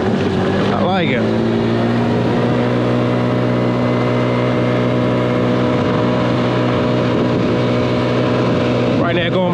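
A Pony 50cc scooter engine drones steadily while riding at around 20 mph, a constant close buzzing hum with wind rush, and a voice briefly speaks over it at the start and end.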